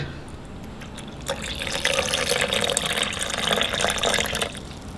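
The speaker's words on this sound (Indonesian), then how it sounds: "masukkan air" Water pours steadily into a blender for an es bugar fruit drink. The splashing, fairly close stream starts after a quiet second and runs for about three seconds before stopping.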